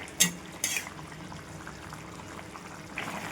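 Fish curry simmering in a pan, a faint soft bubbling hiss under two sharp clinks of a utensil against the pot near the start and a light scrape at the end, with no voices.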